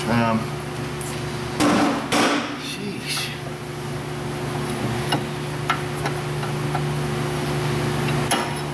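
An aluminum bushing driver is struck with a hammer into the rear knuckle of a Ford Taurus, a few sharp metallic hits early on followed by lighter taps over a steady background hum.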